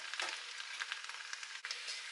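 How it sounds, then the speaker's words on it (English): Soft, steady sizzling of curry bulgur with spring onions and thyme in a hot pot, a faint continuous crackle with no voices. "you can hear it sizzling a little bit"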